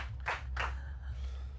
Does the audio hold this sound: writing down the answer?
no